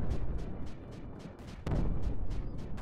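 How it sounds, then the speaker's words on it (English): A sniper shot fired in a video game to detonate an egg, heard as a sharp burst about two-thirds of the way through, followed by a louder rumbling blast over a steady game soundscape of repeating whooshes. "I can use the sniper here, that sniper, to help me detonate that egg"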